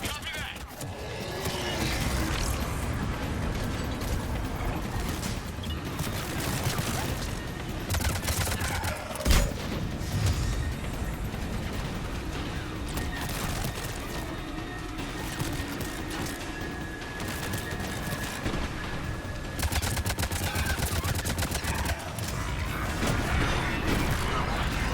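Sustained cover fire in Mass Effect 3, with bursts of gunshots and mechanical clatter holding steady throughout and one sharp boom partway through.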